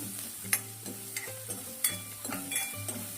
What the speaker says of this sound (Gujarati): તો આપણું તેલ આવી જાય છે તો પહેલાં આપણે ડુંગળી લઈ લીધી છે ફૂલ ગેસે ફટાફટ આ રીતે